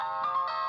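A mobile phone ringtone plays a short bright electronic melody, loud and clear, with a few pulsing notes over under a second.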